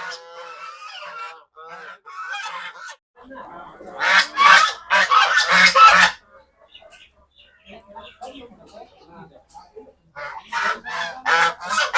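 Chinese geese on a farm honk loudly in repeated bursts at a newcomer, the calls loud and close in several clusters, with quieter stretches of softer honking and fowl noise between them.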